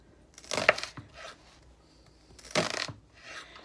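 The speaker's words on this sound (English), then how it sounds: "I'm just going to cut it into chunks" A knife cuts an onion into chunks on a board, giving two short clusters of crisp chopping knocks with a quiet pause between, close and without talk.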